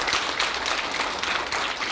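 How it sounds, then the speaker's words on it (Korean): An audience at a Korean event on rare-disease home care gives a steady round of warm applause, dense, even clapping at moderate volume lasting the whole moment with no voices over it. "여러분 뜨거운 축복의 박수를 보내주시기 바랍니다"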